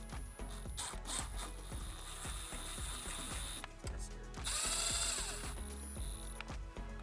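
A ratchet runs down aluminum GT500 Predator cam cover bolts on a Ford Coyote engine, giving rapid repeated clicking bursts close up with brief pauses between bolts and a steady high whine in the background.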